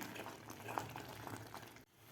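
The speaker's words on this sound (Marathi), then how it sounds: "आपल्याला एकसारखं याला हलवून याचं पाणी आटवून घ्यायचं आहे" Lentils simmer in a pan of water as it cooks down, giving a steady soft bubbling hiss at close range with a brief drop near the end.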